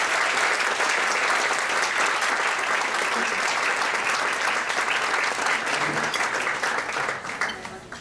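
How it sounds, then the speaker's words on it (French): Warm, sustained applause from an audience greeting award winners at a teachers' association event, a thick continuous wash of clapping that fades toward the end. "applaudissez-les chaleureusement"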